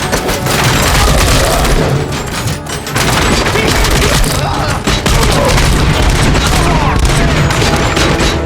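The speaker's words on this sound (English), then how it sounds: "Get cover! Keep firing! Suspects are resisting!" Dense, continuous gunfire and heavy booms fill a firefight in the video game Robocop: Rogue City, loud and nearly unbroken with rapid overlapping shots and a brief dip near three seconds.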